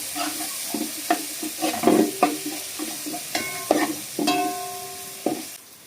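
Masala spices with ginger and lime fry together in a pan for a fish masala, with a steady sizzle broken by repeated clanks and scrapes of stirring, close and fairly loud.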